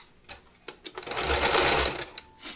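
Sewing machine running a straight stitch on small doll pants, a few short bursts of stitching building into one steady whirring run, then stopping, close and clear.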